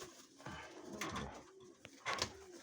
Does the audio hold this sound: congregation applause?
no